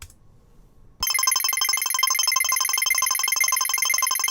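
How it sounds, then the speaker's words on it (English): A sci-fi interface tone synthesized in NI Massive through a flanger, with a bright, buzzing, sweeping texture that bursts in after a quiet second and sustains loudly to the end. "And you can do like small UI sounds like that one."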